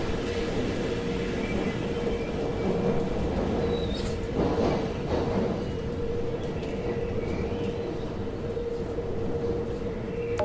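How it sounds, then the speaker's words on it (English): An electric underground train runs in the Tube Sim video game, giving a steady, continuous rumble with a faint electrical hum. A brief louder swell comes mid-way, and no voices are heard. "this train sounds like one of the electric cars from Watch Dogs Legion"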